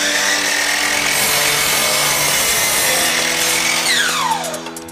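A power saw cuts a 44-degree corner in a decorative wall panel, a loud, steady whine running close and continuous for several seconds, then the pitch drops as the blade spins down at the end.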